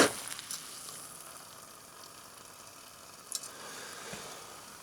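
Half a litre of water at a rolling boil in a titanium pot on an Alpkit Kraku stove gives a steady, faint hissing roar with a soft bubbling texture, alone, after a brief sharper sound at the start.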